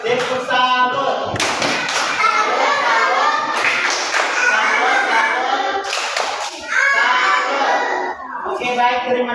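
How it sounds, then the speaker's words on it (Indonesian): Schoolchildren in a primary school classroom clap their hands in several short bursts separated by gaps, close and loud, with children's voices and a teacher talking between the rounds. "kita tepuk tangan untuk adik Dio"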